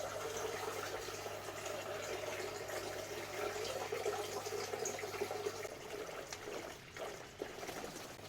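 Apple juice pours steadily into a container while making cider, a continuous close trickling and splashing flow that carries on throughout at moderate level.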